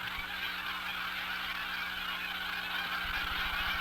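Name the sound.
migrating waterfowl calling at Catahoula Lake, Louisiana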